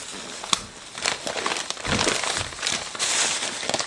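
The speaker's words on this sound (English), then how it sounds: "let's start cutting this open" Plastic packaging around a set of three-tier dog stairs being sliced and torn open, a steady run of close crinkling and crackling with short sharp snaps, loud and continuous with no talk.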